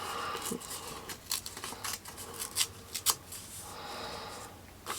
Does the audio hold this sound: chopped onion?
no